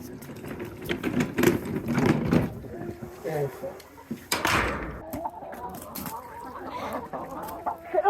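Chickens and a rooster cluck in bursts close by at a farmyard on a wintry day, with people talking over and between the calls.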